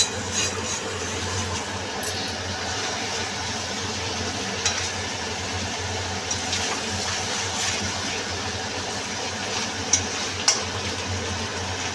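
Home-style chicken curry sautéed and stirred in a pan, a steady low sizzle with soft scraping stirs and a few sharp clinks of the spoon against the pan, with no talk.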